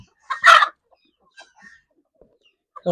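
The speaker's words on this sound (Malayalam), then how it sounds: "ഇത് മുഴുവൻ നാടൻ കോഴികളാട്ടോ" A native country chicken gives a short, loud cluck followed by a few softer clucks and scattered faint noises, close by and otherwise quiet.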